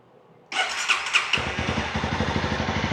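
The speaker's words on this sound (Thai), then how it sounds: "คราวนี้เรามาลองสตาร์ทฟังเสียงไปพร้อมกันนะครับ" A Honda CB300R motorcycle (2020, stock exhaust) engine cranks briefly, then catches and settles into a steady, close, rapidly pulsing idle.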